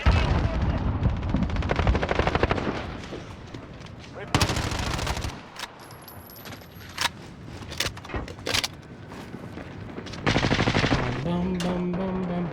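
Rapid automatic fire from a SCAR rifle in a shooting video game, loud bursts of repeated shots with short pauses between strings and a brief quieter stretch mid-way, no talk over it.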